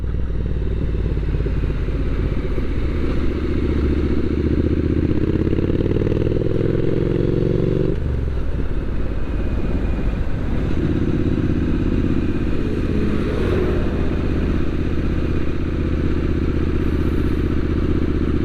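Triumph Street Scrambler 900 motorcycle on a country road, loud continuous engine drone with wind buffeting, pitch rising through gears and dipping briefly around a shift.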